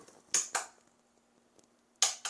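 Cooled boiled eggs are cracked at their ends, giving two pairs of sharp, close shell taps with a quiet pause between them and no talking.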